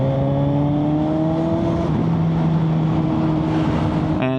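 A motorbike on a ride from Patong to Ban Tao in Phuket, engine note held steady then dropping as it shifts, with loud wind rush throughout and a short burst at the end.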